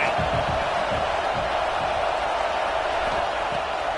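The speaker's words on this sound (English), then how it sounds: "This crowd bringing the energy and noise early." Continuous roar of a large stadium crowd in the College Football 25 video game, steady and loud throughout, with low thumps and faint cheering swelling underneath.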